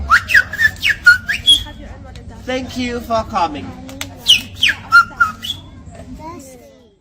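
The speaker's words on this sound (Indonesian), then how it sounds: "Penduduk La Gomera di Spanyol berkomunikasi dengan cara bersiul." Sharp, melodic whistles in short rhythmic bursts alternate with a person speaking, the whistling rising and gliding like coded phrases: the whistled language of La Gomera, Spain.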